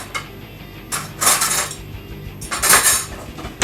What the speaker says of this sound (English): What I do with the top is I butter it.